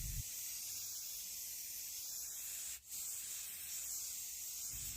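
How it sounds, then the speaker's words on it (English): A spray paint can hisses steadily and continuously while coating wooden tumbling tower blocks in a sage color, with a brief break in the spray midway. "We're going to give these a coat of spray paint with this beautiful coastal sage color"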